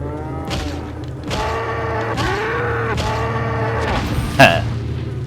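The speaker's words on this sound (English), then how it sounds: "I hear cows mewing." Cows moo repeatedly in the Resident Evil 4 video game's rural European village, several long, drawn-out lowing calls overlapping at close range over a steady low ambient hum, with a short thud near the end.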